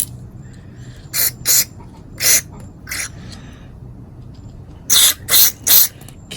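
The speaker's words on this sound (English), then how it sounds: "just try and spray some more in there." Short, close bursts of cleaner sprayed into a newer plastic Briggs & Stratton carburetor: two quick hisses, then one, then another, and a final run of three after a pause, with quiet room tone between.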